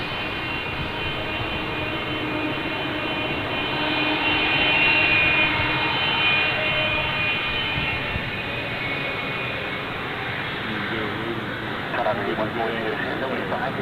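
A FedEx cargo jet comes in to land at Ted Stevens International Airport, its loud, steady jet roar swelling around the middle and then easing off while people talk over it.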